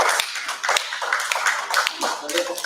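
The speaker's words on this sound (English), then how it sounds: "Let us give them a big round of applause again" An audience applauding a workshop team at a two-day STEM in TVET event, steady clapping from a crowd mixed with talk over it throughout.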